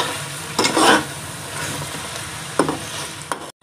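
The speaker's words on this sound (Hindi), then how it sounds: "अब हम इसको 1 से 2 मिनट तमाम मसालों के साथ अच्छे से भून लेंगे" Mutton being fried with ground spices in a pot, a constant close sizzle punctuated by a few scraping stirs of a spoon against the metal, ending abruptly; no talking.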